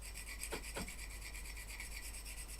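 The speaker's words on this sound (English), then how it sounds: "for tungsten tip chisels I use a diamond pad. You just wet it and you rub" A tungsten-tipped stone chisel is rubbed on a wet diamond sharpening pad, giving a faint, steady rasping scrape with a couple of slightly stronger strokes, close and quiet with no talking.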